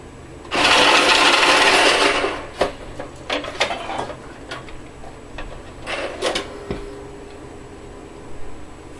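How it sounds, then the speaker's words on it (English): An automatic card shuffler riffles a deck of cards with a loud whirring burst of about a second and a half. Scattered clicks and rattles of cards being handled follow, with no talking. "We're using our shuffler, it might be a little loud."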